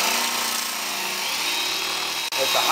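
A Black & Decker quarter-inch variable speed electric drill scrubbing rust off an old two-man saw blade, a steady whirring motor with grinding buzz held at lower speed, close and continuous with a brief dip near the end.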